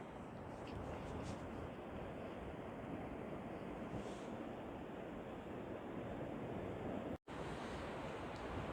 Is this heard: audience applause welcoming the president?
no